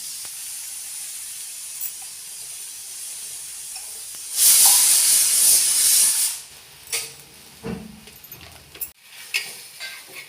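Holige flatbread cooking in oil on a tava, a faint background hiss that swells into a loud burst of sizzling steam for a couple of seconds, then trails off into scattered crackles and light clatter.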